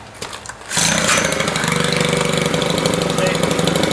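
Stihl FS90 4-mix two-stroke string trimmer cold-starting: a few faint clicks, then the engine catches abruptly and settles into a loud, close, steady buzzing idle that continues to the end.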